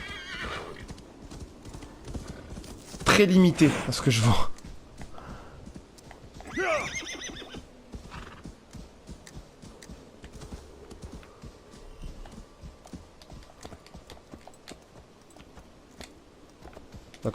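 Hooves clip-clop in a steady gallop in Assassin's Creed Valhalla, broken by a loud horse whinny, then a second neigh, with quiet clicking and a brief spoken line over it.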